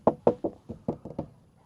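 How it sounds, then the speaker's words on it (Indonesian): Knuckles rap about eight times on the thin plastic body panel of a Polytron Fox 350 electric scooter, producing hollow, close knocks in an uneven rhythm with no voices. "plastik body dari Polytron ini menurut kami bukan yang terbaik lah ya. Jadi kalau diketok-ketok"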